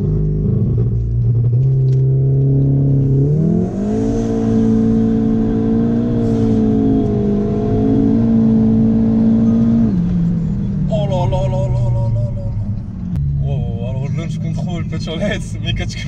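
A stage 3 Volkswagen Golf 7R of about 500 hp using launch control: the engine holds a loud rev, climbs in pitch, then surges through hard acceleration with crackles, while someone talks over it.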